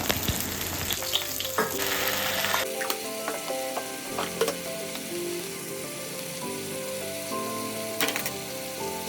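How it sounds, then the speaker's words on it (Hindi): Vegetable curry cooking in a pan, a continuous frying hiss with intermittent spoon clinks and stirring scrapes, louder in the first few seconds. "इधर मेरा सब्ज़ी पक रहा है"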